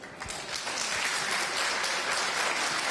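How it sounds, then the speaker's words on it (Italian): A crowd applauds during a live outdoor event for a local news broadcast, a broad sustained wash of many hands clapping that swells after the first moment and holds steady, with faint voices beneath. "farvi un grande applauso"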